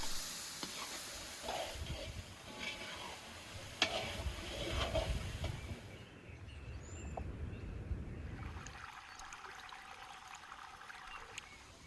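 Seasoned onions frying and caramelizing in a pan for beef stew, a soft, steady sizzle with faint stirring clicks, quiet and continuous with no talk.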